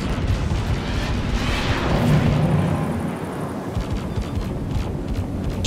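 Spaceship weapons firing in a space dogfight video game, a dense rumbling barrage of blasts and bursts, loud and close, continuous for several seconds before thinning into a softer mechanical wash.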